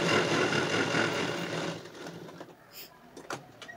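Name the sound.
sewing machine double-stitching a blouse sleeve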